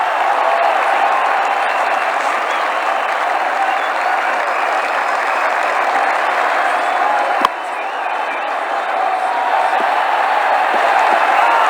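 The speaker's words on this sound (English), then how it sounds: "The crowd really enjoyed that one." A large cricket crowd applauds and cheers steadily after a big shot is hit out of the ground, a dense, continuous roar of clapping that dips briefly near the end before swelling again.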